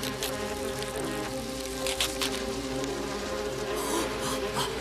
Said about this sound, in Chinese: 把蜜蜂引到这里来，把蜘蛛网冲破